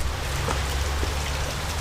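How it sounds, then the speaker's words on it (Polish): Steady rain pours onto paving stones outside, falling where a gutter fails to carry the water away, a dense, even hiss with close spattering and no voices. "Tu mi nawet rynna nie odbiera i pada na kostkę."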